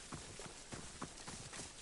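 Horse hooves galloping in Assassin's Creed Odyssey, a steady clip-clop rhythm of quick, evenly spaced hoofbeats, close and moderately loud, continuing throughout with no talk.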